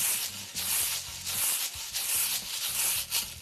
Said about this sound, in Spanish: El guache es un instrumento de percusión que suena más o menos así.